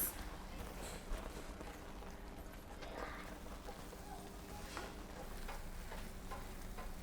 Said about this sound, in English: I'm going to turn the heat down to about low and just mix the flakes.